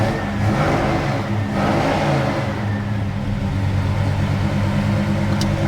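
A Monte Carlo's engine, running rich, revs and runs at a steady elevated pitch, loud and close, with a rough mid-range drone and no talking.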